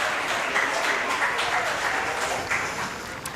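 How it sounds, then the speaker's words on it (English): Crowd at a high school football game between Collingswood and Sterling applauding an injured player being taken to an ambulance, steady outdoor clapping from the stands mixed with voices. "And the applause comes in from everyone for Angelucci."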